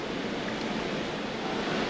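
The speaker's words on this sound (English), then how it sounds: "All the noise you hear is from the ocean, from the water." Ocean water rushing past a Carnival Jubilee cruise ship, heard from an aft suite as a steady, broad wash of surf-like noise mixed with wind, constant and fairly loud.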